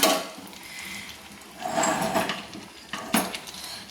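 Hatchery chicken curry is stirred in a pot, with metal scraping and clinking against the pot in a few uneven bursts at close range and no talking.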